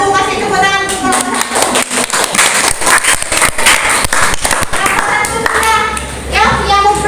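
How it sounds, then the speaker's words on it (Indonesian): Classroom applause breaks out for a student group after its presentation in a high school physics class, a dense patter of many hands clapping steadily with children's voices chattering underneath. "Kasih tepuk tangan untuk kelompok"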